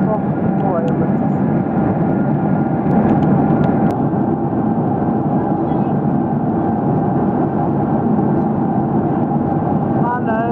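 A steady, loud roar of aircraft engines fills the cabin of a passenger plane during a flight back from Suriname, continuous and unchanging, with faint talk beneath.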